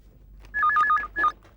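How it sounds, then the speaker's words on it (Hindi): A telephone rings indoors with a short electronic warbling ring, two bursts close together, clear and moderately loud against a quiet room. "एक मिनट, फोन आया।"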